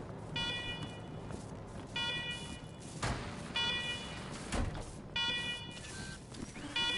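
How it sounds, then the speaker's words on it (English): Repeated electronic alarms ringing inside a secure bunker facility in a PlayStation 4 video game, bursts of bright beeping tones sounding over a steady noisy background with occasional thumps. "let's talk after you kill the alarms. I can hardly hear myself think."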